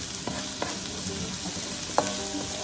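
Carrot pieces frying in a pan, added early ahead of sweet potato and black bean filling, with a steady close sizzle broken by a few sharp utensil scrapes and clinks as they are stirred.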